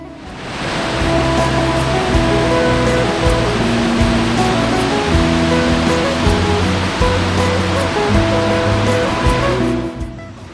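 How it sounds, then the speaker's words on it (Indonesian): Sentarum waterfall pouring in dense forest, a loud, steady roar of rushing water heard close, with musical tones layered over it and no talk. "dengan melihat keindahan air terjun Sentarum yang ada di depan mata kami"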